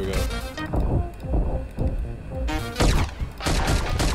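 Gunfire in the video game Karlson, rapid volleys of loud, punchy shots with crashing impacts, dense and continuous over a few seconds with no talking.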